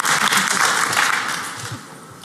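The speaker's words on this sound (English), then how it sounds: "let's give a round of applause for that song as well, please" An audience at a Black Hat 2017 awards event applauds a song, a dense, steady wash of many hands clapping together that holds strong and then eases off slightly toward the end.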